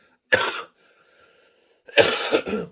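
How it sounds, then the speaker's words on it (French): Two bursts of allergy coughing, the second a bit longer with a couple of quick coughs, separated by a short quiet gap; close and fairly loud. "je tousse un peu, les allergies"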